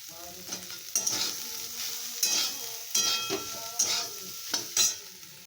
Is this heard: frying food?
yes